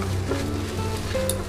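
Chow mein being stirred inside a rice cooker, with a loud close sizzle and frying crackle over a low steady hum and soft scraping of the stirring, with no voices.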